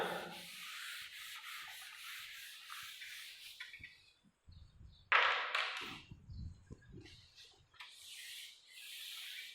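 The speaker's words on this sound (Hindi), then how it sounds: "मैं थोड़ा सा रब कर देता हूँ" Soft rubbing of an eraser or duster across a writing surface in a classroom-style lesson, a faint scratchy back-and-forth running steadily for several seconds, then a few taps and rustles.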